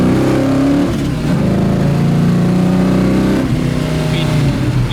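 A 735-horsepower 1971 Chevrolet Nova V8 runs at about 3,000 RPM, a loud, steady rumbling drone heard from close by, with brief dips in the engine note near the start and again midway.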